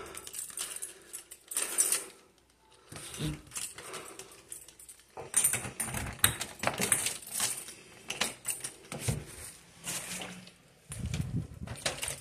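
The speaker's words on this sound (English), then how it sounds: "Little keys." Small house keys jangle and clink in a hallway, a few short metallic bursts with quieter gaps between them, close and fairly soft.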